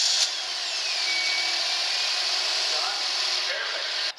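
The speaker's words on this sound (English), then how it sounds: "Seems like the capacitor bank is good for one crank." A car engine cranks over on power from a capacitor bank instead of a battery, a steady loud whirring drone lasting about four seconds and then cutting off abruptly.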